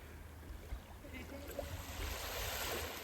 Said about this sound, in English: The ocean moves slowly